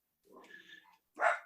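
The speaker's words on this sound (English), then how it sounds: "She's barking. It's like one dog will bark and then like everybody barks." A dog barks in a short burst indoors, a muffled yelp followed by one sharper, louder bark, fairly close, with no talking.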